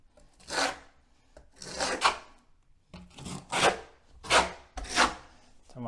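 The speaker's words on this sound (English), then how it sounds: "Bucket trowel. Get some on there. You just want to push it into the wall first." A bucket trowel scrapes and spreads tile mortar onto a shower wall, five or six separate rough swiping strokes in a loose rhythm, close and moderately loud with quiet gaps between them.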